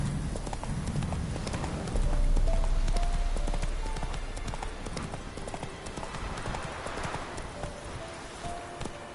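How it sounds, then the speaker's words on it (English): Roach the horse in The Witcher 3 galloping, a rapid, steady clip-clop of hooves running throughout, close and clear, with faint ambient game sounds beneath. "That's it, Roach."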